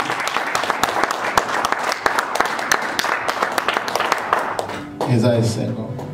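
A church congregation at a pastor's service claps in a steady rhythmic beat that fills the room, with voices over it. The clapping gives way to a swell of cheering near the end.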